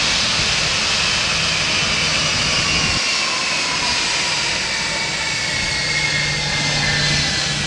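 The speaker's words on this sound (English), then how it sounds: "This concludes the demonstration of the C-17 Globemaster 3" A Boeing C-17 Globemaster III military jet thunders at the Dover Air Force Base airshow, its engines producing a loud, continuous roar with a sustained hiss throughout.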